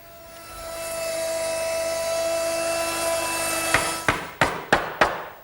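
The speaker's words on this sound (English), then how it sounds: "the only thing I need to do that is a 1/2 inch round over bit set up in my router" A router with a 1/2 inch round-over bit shaping the top rail of an English garden bench, a steady high tonal whine that builds and holds, then a series of about five sharp knocks or cutting bursts near the end.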